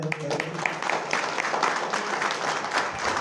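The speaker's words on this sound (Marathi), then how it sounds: "जरा जोरदार टाळ्या वाजून द्या" An audience at a school reunion for the 1997–98 batch of Shrimant Jaysingrao Ghatge High School claps in a dense, continuous patter, a moderately loud crowd applause. Faint voices run beneath it.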